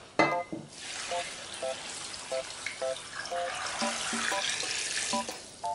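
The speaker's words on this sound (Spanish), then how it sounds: "y vamos a añadirle agua fría" Cold water pours into a pot of verdina beans with onion and a bay leaf, a continuous rushing splash that starts after a brief clatter and runs steadily, close by.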